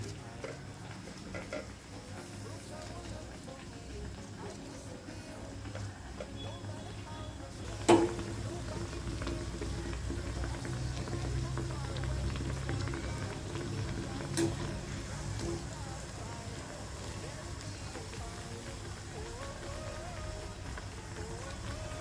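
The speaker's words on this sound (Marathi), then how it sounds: "या प्रकारे आपल्याला आपले वडे पूर्ण तळून घ्यायचे आहेत" Urad dal vadas deep-frying in hot oil, giving a steady, low bubbling sizzle throughout with a couple of sharp clinks from a utensil.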